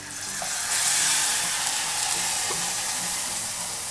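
Water is poured into a hot roasting pan while making sheer kurma, setting off a loud, steady broadband sizzle and hiss that holds for several seconds with no talk.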